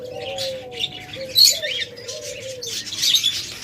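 A tame pair of cockatiels, a male and a female, chirp and call repeatedly at close range, with sharp bright notes over soft low warbling.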